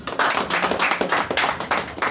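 An audience clapping for an artist at the ETA Awards Kenya unveiling, a brisk, close patter of many hands that keeps a steady rhythm the whole time.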